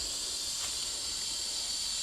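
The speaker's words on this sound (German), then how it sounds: "Das Wasser für den ersten Kaffee des Morgens kocht." A pot of water boils for the first morning coffee at the Omunyandi campsite near the Kunene River in Namibia, giving a steady, close, airy steam hiss with no talking.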